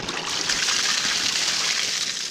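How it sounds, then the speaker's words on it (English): Built-up water runs off a Massey Ferguson 675 tractor under restoration, a steady close hiss of trickling, splashing water that stays even and unbroken throughout. "Look at all this water build up."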